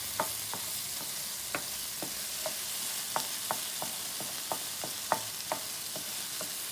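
Tomato thokku sizzles in oil in a pan while a spatula stirs it, giving regular scraping knocks every half second or so over a constant hiss, with no voices.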